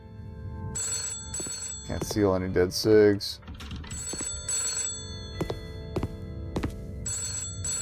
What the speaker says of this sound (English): Yeah, all right, I'll get the damn phone.